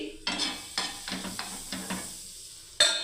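Rotis cooking in a pan give a run of rhythmic scrapes and soft sizzling strokes, about six evenly spaced touches, followed by a louder sharp scrape at the end, with no voices.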